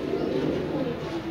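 Female Rampuri pigeons coo softly in a low, rolling murmur at close range, held steady through the brief moment under a background hum.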